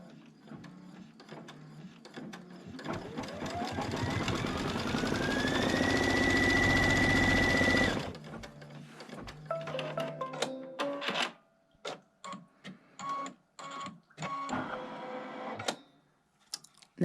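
An embroidery machine stitches fabric held in a hoop, a steady mechanical whir rising in pitch for several seconds and then breaking into short bursts of stitching separated by pauses.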